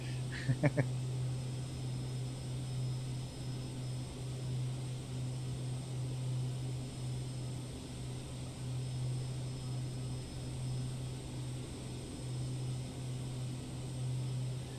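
Steady propeller-plane engine drone from a flight simulator game, a twin-engine light aircraft in flight, humming evenly and continuously throughout with a few brief clicks near the start.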